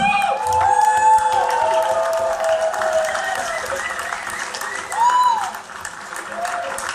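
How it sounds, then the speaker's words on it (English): Audience applause at a hacker conference talk on the demoscene, loud clapping from a crowd mixed with cheers and whoops, a few whistles cutting through, swelling again briefly before tapering off. "So give a applause, please"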